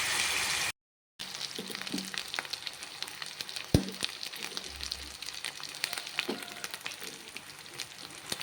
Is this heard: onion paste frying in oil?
yes